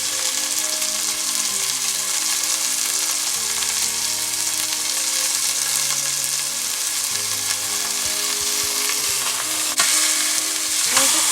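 Seasoned chicken fries in a pan over medium heat, a steady loud sizzle throughout with no talking.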